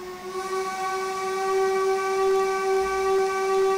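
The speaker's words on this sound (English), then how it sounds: "Let's have a listen to the whistles." A Black 5 steam locomotive whistle in Train Simulator 2021 gives one sustained, loud, steady tone with a breathy hiss of steam, held for several seconds with no voices.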